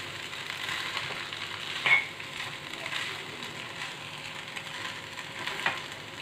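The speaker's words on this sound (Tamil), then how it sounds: "நல்லா மிக்ஸ் பண்ணிவிடுங்க." Spiced vermicelli biryani being stirred in a pan, a steady soft sizzle with scraping strokes from a spoon, including one sharper knock near the start, close and moderately quiet with no talking.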